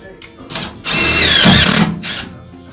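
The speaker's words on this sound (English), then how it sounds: "They got a self-tapping head on them, and so Tommy's going to show you how we're putting these onto the metal." A power drill drives self-tapping screws into shipping container metal in short whirring bursts, with one longer, louder run in the middle, close by.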